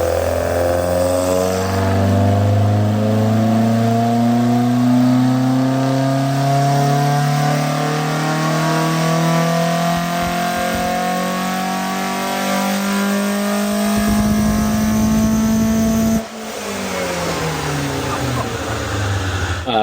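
A BMW E90 M3 V8 fitted with a homemade DIY plenum revs hard and climbs steadily in pitch, a loud, close engine drone that cuts off sharply near the end and drops back to a lower idle.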